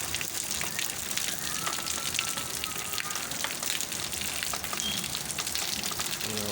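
Steady rain patters on a surface, a dense crackling hiss with scattered sharper drops, constant throughout and without talking.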